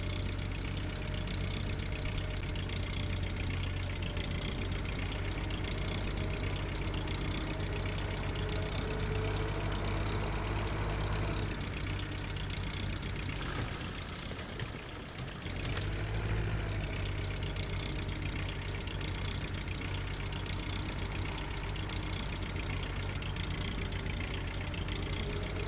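A Ursus C-4011 tractor engine idles with a steady, continuous low rumble that stays loud and close throughout, dipping briefly midway before settling back into the same even idle, with no voices.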